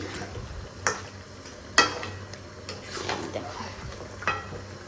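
Mutton cooks with green chillies in a pan: a soft, low sizzle under intermittent scraping stir strokes and light clinks of utensil on metal, several sharp accents spread irregularly across a few seconds.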